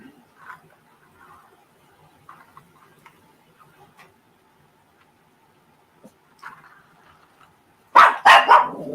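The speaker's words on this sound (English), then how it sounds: "little chihuahuas" Small chihuahuas break into a short run of loud, sharp, close yaps near the end, after mostly quiet room sound with faint scattered noises.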